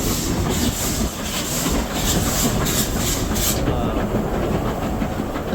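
A train passes close by, loud and continuous, with rolling wheel rumble and clickety-clack over the rails. A brief high squeal rides on top before easing off.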